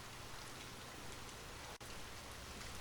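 Steady rain falls as a dense, even hiss of drops, soft and continuous with no voices, as quiet ambience behind a calm reading.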